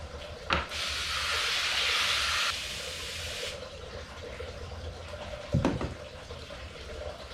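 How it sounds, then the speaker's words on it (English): Radish microgreens grown in California get a watering: a close, steady hiss of spray runs for a few seconds, then a softer stream follows, framed by a couple of sharp clunks. "now we just need to put some water."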